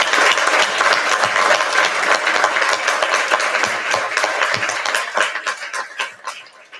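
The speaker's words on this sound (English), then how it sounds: "So let's recognize her and give her a round of applause." Applause at a school board meeting honoring a bus driver retiring after 25 years, a dense, steady round of clapping from the room that thins and tapers off at the end.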